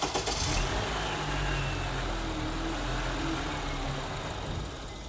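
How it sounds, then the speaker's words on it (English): A 2007 Honda Accord engine cranking and catching, then settling into a steady, low idle rumble that holds evenly, close by with no talking. "First things first, start the car up."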